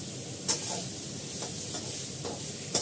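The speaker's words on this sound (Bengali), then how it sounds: "শুকনো লঙ্কা সব হালকা করে ফ্রাই করে" Dried red chillies fry lightly in hot oil, a soft continuous sizzle with faint stirring scrapes and a couple of sharper spits, close and fairly quiet, with no one talking.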